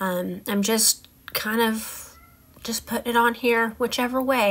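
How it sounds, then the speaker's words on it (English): A cat meows loudly and repeatedly in the background, its cries overlapping a person talking nearby during a craft session. "you'll have to excuse the kitty if you can hear him in the background"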